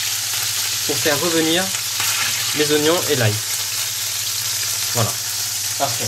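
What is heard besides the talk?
beef meatballs searing in olive oil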